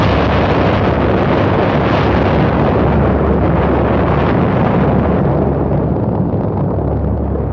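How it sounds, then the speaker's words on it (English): A massive atomic bomb explosion over the Japanese city of Hiroshima, heard as a loud, sustained roaring rumble and blast that fills the whole clip and slowly eases off toward the end, with no voices present. "The bomber's crew dropped the first in history of mankind atomic bomb over this"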